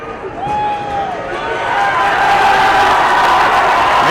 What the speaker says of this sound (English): reaction from the crowd.